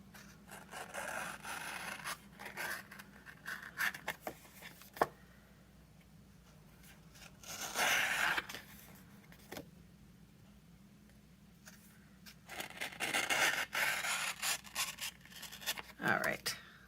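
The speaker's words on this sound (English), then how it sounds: "I'm going to get my scissors all sticky. And I'm going to cut really close around." Scissors snip close around sticky adhesive paper for a Stampin' Up! storage drawer insert. The cutting gives soft, intermittent rasping and scratching in several bursts, with quiet speech under it.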